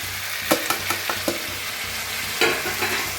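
Ridge gourd curry being sautéed in a pan, with a soft continuous sizzle and several sharp scraping strokes of a spoon against the pan, loudest near the start and again toward the end.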